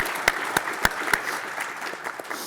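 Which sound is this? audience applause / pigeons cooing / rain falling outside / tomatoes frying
audience applause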